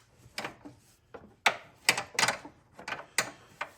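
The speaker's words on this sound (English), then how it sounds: "I get the luxury of tightening up those 3 bolts again" Ratchet tightening headlight bolts on a van, close-up bursts of quick clicking strokes separated by short pauses, fairly quiet and with no talking.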